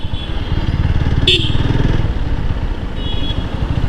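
A motorcycle engine rumbles steadily up close, with a brief sharp clatter partway through as the bike rolls over a new speed breaker and keeps going.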